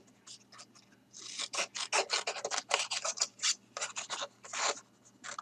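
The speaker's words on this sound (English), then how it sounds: "Then I'll fussy cut that out as well." Small scissors snip and rasp through stamped paper while fussy cutting a card image, a quick series of crisp close-up cuts in bursts, fairly quiet with no talking.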